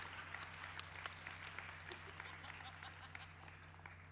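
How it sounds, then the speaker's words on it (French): Audience at a startup pitch competition grand final applauding the judges, a fairly quiet, sustained patter of many hands clapping from across the room with sharp individual claps scattered through it. "Je pense qu'avant, on peut applaudir les juges ici présents."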